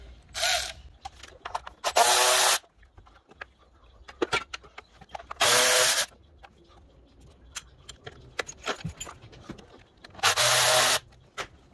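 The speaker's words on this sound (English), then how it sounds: "now I'm going to start taking off the spark plug cover bolts" A ratchet works the spark plug cover bolts loose on a 2003 Ford Thunderbird, in four loud, close ratcheting bursts separated by quiet clinks and tool handling.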